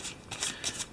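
Eldritch Horror board game cards being shuffled by hand, a quick burst of riffling paper flutters lasting about a second, close and crisp with no talking.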